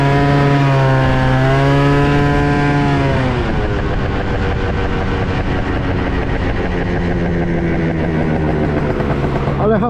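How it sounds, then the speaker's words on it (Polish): A scooter engine whines loudly and up close while riding, its pitch climbing and falling as the throttle changes, with wind rumble underneath. "uwielbiam jeździć skuterem"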